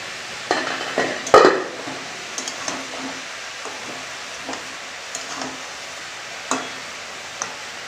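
Bottle gourd curry with fried shrimp is stirred in a pot, giving a few soft scraping strokes and utensil clinks early, then quiet sparse taps over a faint simmer.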